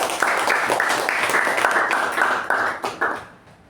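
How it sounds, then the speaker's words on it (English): Applause from members at a club meeting honoring the Sergeant at Arms, steady close clapping that swells in waves and fades out over the last half second. "let's have a huge round of applause for our Sergeant at Arms"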